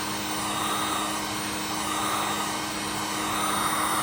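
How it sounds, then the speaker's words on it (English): A heat gun blows hot air onto a sheet of Kydex while a knife sheath is being formed, a steady, close whooshing roar with a constant motor whine that holds unbroken throughout. "You don't want to burn it with the heat gun"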